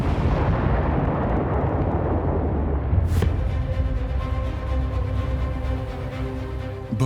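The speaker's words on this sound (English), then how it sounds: "Both road and rail links are hit by a massive explosion." A massive explosion hits the road and rail links of the Kerch Bridge: a loud, sustained roaring rumble, broken by a sharp crack partway through, then a lingering low roar with a faint ringing hum.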